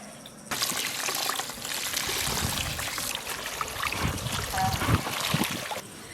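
Wild greens being washed by hand in water, with steady splashing and trickling that starts abruptly and continues throughout, close and moderately loud, with faint voices in the background.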